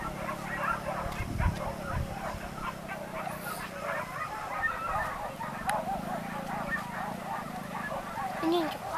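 Hunting dogs bark and yip repeatedly during a wild boar hunt in the forest, the barks scattered and mid-distance over steady outdoor noise, with people talking throughout.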